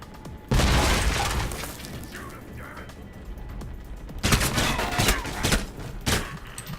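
A grenade goes off in the video game Alpha Protocol, a loud, sudden blast with shattering debris, then a second burst of rattling crashes a few seconds later; no voices.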